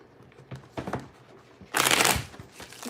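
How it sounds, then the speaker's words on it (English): Tarot cards are shuffled by hand: a few soft riffling flicks, then one louder, longer rushing riffle, close and alone with no talk. "I'm shuffling the cards"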